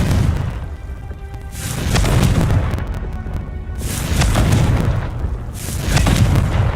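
Confringo fire spell blasts in the wizarding video game Hogwarts Legacy, three heavy booming explosions rolling out in a roughly regular rhythm, loud and close with no talk.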